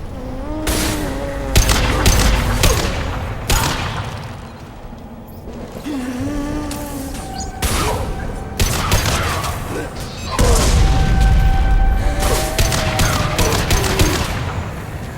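Gunfire in the video game Mass Effect Legendary Edition: loud, repeated bursts and single shots crack through the whole stretch, with thuds and booms mixed in and combat voices calling out between them.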